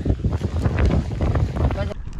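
Strong coastal wind in Norway buffets the microphone in loud, continuous rumbling gusts, with a rougher whoosh through the whole stretch.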